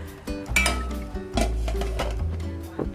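Metal clatter and clinks as a lid goes onto a steamer pot holding camote (sweet potato), with several knocks and a ringing scrape close by and no voices.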